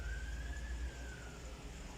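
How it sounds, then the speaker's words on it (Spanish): An ambulance siren sounds faint and distant outdoors, a thin steady wailing tone that slowly drifts in pitch over a low background hum, with no voices over it. "ahí pasó la ambulancia"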